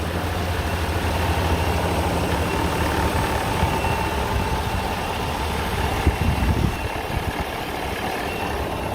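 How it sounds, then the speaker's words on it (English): Steady, smooth low rumble of a 2014 GMC Sierra 1500 4WD Denali pickup engine at idle, recorded up close and continuous for the whole stretch with no talking. "Very quiet engine. You can hear it here."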